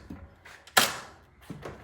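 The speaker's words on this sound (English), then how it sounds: "open this door" A cabinet door in a home garage workshop is opened, with faint handling clicks, then a sharp metallic clack and a trailing rattle, followed by another softer knock.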